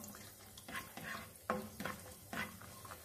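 Raisins frying in a pan for sheera, with soft sizzling and a few quiet stirring scrapes and clinks spaced through the short stretch, all fairly faint.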